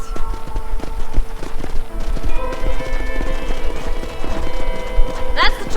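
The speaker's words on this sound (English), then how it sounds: "Qué perfecto, se mueven bien los caballos" Horse hooves clip-clop in a steady rhythm through the Red Dead Redemption video game, several horses moving together at a walk, close and clear over a continuous low rumble with faint game dialogue underneath.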